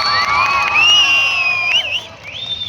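A crowd at a Hindu Ganapati festival event in Mundgod, Karnataka cheers loudly, with shrill sustained whoops and whistle-like cries riding over a steady mass of crowd noise.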